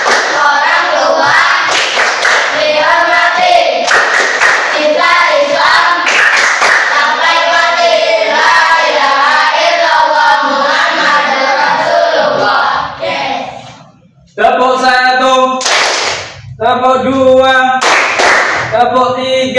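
Fifth-grade children in an Islamic primary school class chant loudly in unison while clapping in rhythm, with their voices and hand claps filling the room and a brief pause before the chanting and clapping resume.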